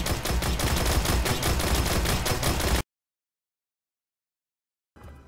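The SUROS Regime auto rifle in the Destiny video game, fired in a fast, dense stream of shots close up for almost three seconds, followed by silence and then a short resumption.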